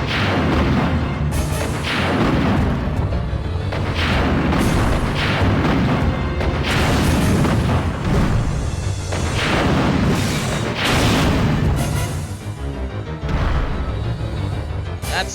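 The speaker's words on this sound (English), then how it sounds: "Let's use some of these rocket launchers." Rocket launcher blasts in the survival shooter Resident Evil Survivor 2 Code: Veronica, a loud, dense run of booming explosions one after another with no talk, easing slightly near the end.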